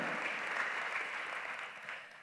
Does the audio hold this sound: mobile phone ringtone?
no